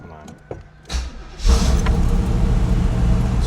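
A car cranks and its engine catches and starts after a driveshaft repair, settling into a steady, fairly loud idle with a rough low rumble. Faint clicks and rustles come just before the start.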